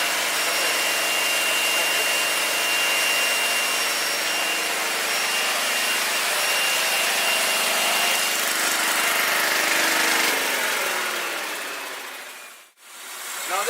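A brushless generator runs with a steady, continuous hum and whir throughout, then briefly cuts out near the end before resuming.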